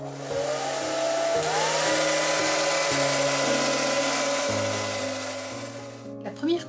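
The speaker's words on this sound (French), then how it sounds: "Vous pouvez éventuellement accélérer le temps de séchage en utilisant un séchoir sur la position froide" A hair dryer on its cold setting blows over drying varnish for a crackle-glaze craft, a steady close whirring drone that shifts pitch slightly and then cuts off near the end with a few handling knocks.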